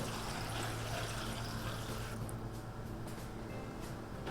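Tea is poured steadily from a container into a pitcher, a close, continuous splashing stream that softens partway through and then trails off.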